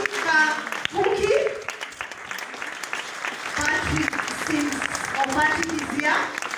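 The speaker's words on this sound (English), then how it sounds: "A better clap, parents." Parents clap at an outdoor school graduation ceremony in bursts of scattered applause, mixed with background voices and crowd chatter, with no clear pause in the noise.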